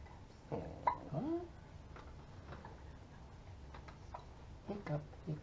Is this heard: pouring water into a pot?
no